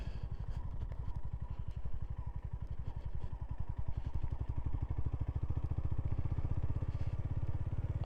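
A Honda GB350 single-cylinder motorcycle on the move, its engine thumping in a steady, rapid rhythm with constant loud rumble throughout, no talking over it.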